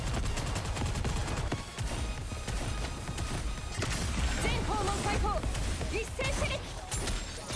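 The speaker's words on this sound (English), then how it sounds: "God, I love watching Soda shoot." Soda firing her weapon in the game Nikke Goddess of Victory, rapid sustained bursts of gunfire mixed with impacts and crashes, loud and continuous with game effects layered on top.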